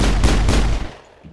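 A loud, short burst of sniper gunfire from the video game Mass Effect: a sharp crack with a booming low tail that dies away within about a second.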